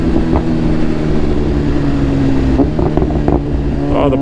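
BMW S1000RR sportbike with an Arrow titanium slip-on exhaust, engine running loud and steady with rough, pulsing crackles and a few sharp pops toward the end.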